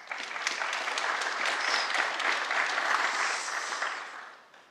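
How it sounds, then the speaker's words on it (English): A conference audience applauds the next speaker at a live-streamed monitoring event, dense even clapping swelling and holding for several seconds before tapering off at the end. "Let's give a big round of applause for our next speaker,"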